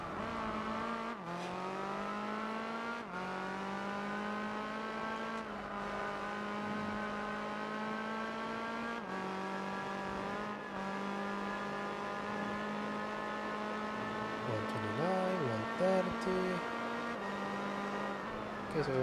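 Race cars, among them a Toyota Supra, scream around a track in Gran Turismo 4, their steady high-revving engine whine rising with each gear, broken by sharp shift dips, loud and continuous.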